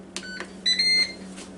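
A Ninja Foodi Deluxe pressure cooker and air fryer powers on with a short series of clear electronic beeps, first two brief chirps and then a longer tone, close and alone in a quiet kitchen.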